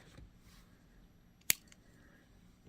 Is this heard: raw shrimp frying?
no